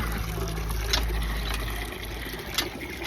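Water pouring into a swimming pool, a steady rushing flow over a constant low hum, moderately close, with no talking.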